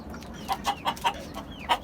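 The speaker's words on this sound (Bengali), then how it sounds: "এই যে এখানে তিনটা মুরগি আছে" Hens in a rooftop garden, three of them guarding eggs, give a quick series of about six short, close clucks in an uneven rhythm over a low background hiss.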